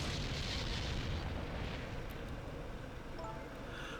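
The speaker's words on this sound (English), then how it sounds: "An explosion?" A explosion in the Ghost Trick: Phantom Detective video game, heard as a sustained broadband rumble with a deep low-end roar that fills the whole stretch, fairly quiet and with no voices over it.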